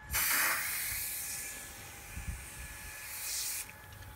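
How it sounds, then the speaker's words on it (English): A spray can of Sonax tire shine hisses in a steady, fairly quiet stream onto a tire, with a stronger burst at the start and another near the end. "So what you're gonna do is just gonna spray it all over like that"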